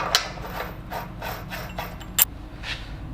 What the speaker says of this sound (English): So I'm going to add the washer and the nut.